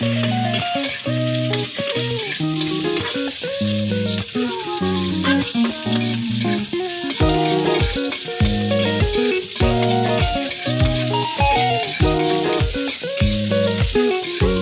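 Sautéing in a frying pan while cooking Pangasinan-style escabeche tilapia, with steady sizzling and frying under loud tonal music that plays throughout.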